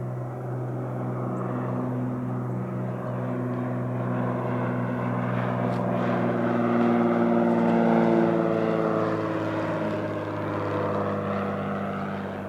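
A general aviation aircraft lands on runway 26 left at Spirit of St. Louis Airport, a steady propeller engine drone that swells slightly mid-clip, continuous and moderately loud with no talk.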